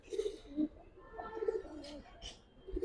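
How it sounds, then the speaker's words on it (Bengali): A Giribaz pigeon coos softly in repeated short, low notes close by, with faint background noise between the calls. "এটাও আমার একটা থরের কবুতর"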